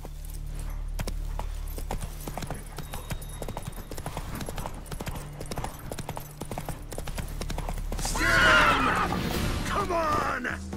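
Roach the horse's hooves in The Witcher 3 video game, a run of rhythmic clip-clop footfalls at moderate volume, followed near the end by a louder burst that sounds like a whinny.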